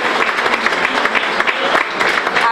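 Loud, close crowd applause rings out during a town festival presentation in Graus, a dense, continuous burst of many hands clapping for the whole stretch.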